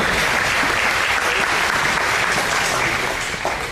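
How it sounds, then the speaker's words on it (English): Audience at a Lafayette County C-1 high school graduation ceremony gives a steady, dense round of applause, continuous and fairly loud throughout before tapering slightly at the end. "give him a round of applause"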